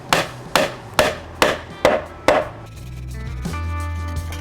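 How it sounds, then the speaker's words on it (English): A wooden half-blind peg is driven by six evenly spaced sharp taps during picnic table joinery, each strike crisp and close, then the tapping stops and a low hum follows. "When you're tapping in that half-blind peg, keep your ears open and listen for when the peg bottoms out."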